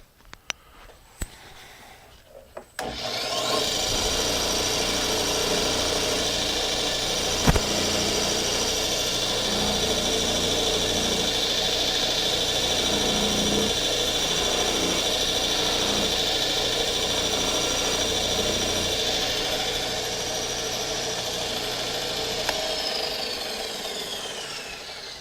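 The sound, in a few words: wavy buffing wheel polishing golf iron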